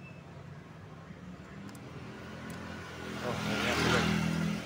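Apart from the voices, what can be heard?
Honda PCX 160 scooter engine started for a test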